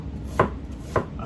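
A knife slices through an onion on a cutting board, two distinct sharp chops about half a second apart, close and clear with nothing else heard.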